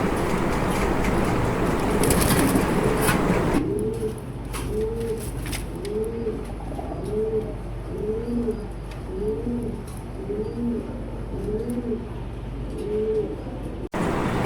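A pair of pigeons coo in a repeated, rhythmic series of low, rolling calls, close and clear, after a brief burst of louder broadband noise at the start; no speech is heard.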